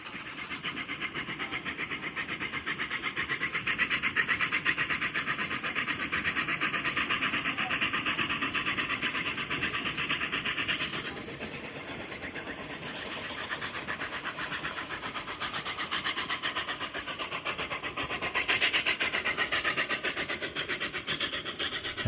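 A steam train labours steadily up a 3.9% grade toward White Pass Summit, Alaska, a continuous heavy rumble and hiss with a rapid churning beat, loud and close, no voices.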